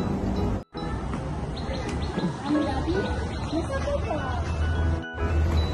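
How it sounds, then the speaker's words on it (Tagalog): Small birds chirp and tweet in short repeated calls over a steady outdoor hiss at the Hong Kong Zoological and Botanical Gardens, with brief dropouts in the sound. "naririnig niyo yung mga huni ng ibon"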